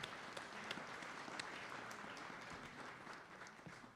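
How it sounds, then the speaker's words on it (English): Faint applause from attendees at a district budget town hall, soft steady clapping heard at a distance throughout. "give the department heads an applaud"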